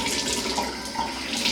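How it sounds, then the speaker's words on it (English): A bathroom sink tap runs at a steady, close hiss as water pours over a makeup sponge, continuous splashing with slight fluctuations and no talking. "I'm going to start by running the water and running this under the water"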